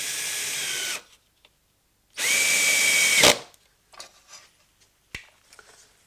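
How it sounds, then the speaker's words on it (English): A power drill drives a SPAX screw into a WPC wrap stair nosing on a step, in two loud whirring bursts followed by quieter clicks and taps. "taking the SPAXM screws supplied, we can now get the first fixing in the middle"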